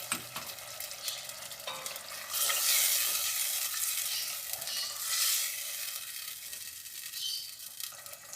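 Tomato sizzles loudly in a pan of frying masala with salt and chilli as it is stirred, a steady hiss with scraping strokes swelling midway and easing off toward the end.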